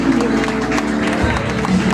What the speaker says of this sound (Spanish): Fuerte los aplausos para Morena